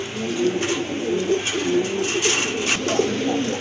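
Caged pigeons offered for sale as a pair coo steadily and fairly close, with soft repeated throaty calls over a busy background.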